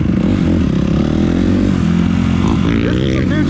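A Suzuki RM-Z250 dirt bike rides along a woods trail, its engine droning loud and close throughout with steady pitch changes as the rider works the throttle.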